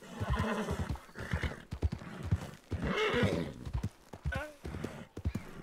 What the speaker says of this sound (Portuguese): Cavalo estar a ficar cansado.